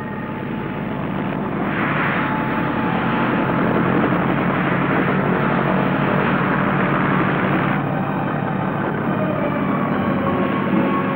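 A loud aircraft engine roars steadily during takeoff, a dense, unbroken, close-up rumble that swells slightly partway through and holds to the end, with no voices heard.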